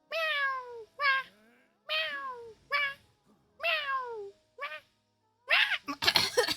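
A human voice imitates Kirara's cat meows, repeating a series of short, rising-falling mewing calls with brief pauses between them, ending in a noisy burst.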